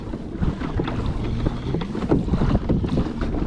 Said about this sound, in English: The wind has actually just come up in the last, I don't know, 20 seconds.